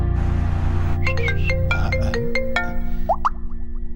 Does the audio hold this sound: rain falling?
no